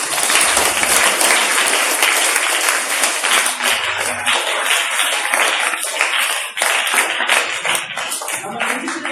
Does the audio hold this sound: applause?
yes